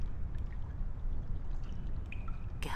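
Water forced out under high pressure in The Longest Journey video game makes a low, steady rushing rumble that stays fairly quiet and even, with a brief brighter splash near the end.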